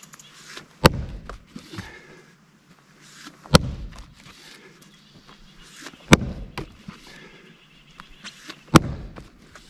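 An axe splits a firewood log outdoors, four sharp, loud impacts spaced a few seconds apart, each with a brief crack followed by quieter shuffling and handling sounds between strikes.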